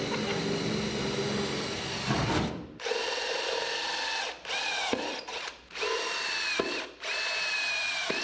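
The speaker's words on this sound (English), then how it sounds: "Right after Slick finished putting cooling holes in that 700 R4" A power drill cuts cooling holes into a 700R4 automatic transmission during a 1930 Ford Model A build in a workshop, loud continuous whirring broken by several brief stops and restarts.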